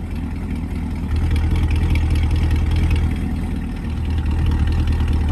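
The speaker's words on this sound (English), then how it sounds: "All right, do 3500 in sport mode." A Chevrolet C8 Corvette with sport cats revs to about 3500 RPM in sport mode, a loud, deep engine drone held near, dipping briefly before climbing again.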